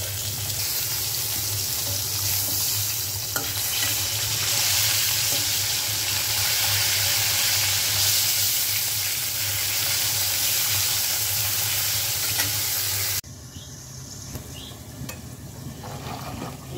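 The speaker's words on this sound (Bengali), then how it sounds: "তো এই যে তেলের মধ্যে দিয়ে দিলাম, লেজটা ভাজি হোক।" A fish tail sizzles in hot oil with a steady, broadband hiss that runs unbroken for about thirteen seconds, then drops suddenly to a quieter background.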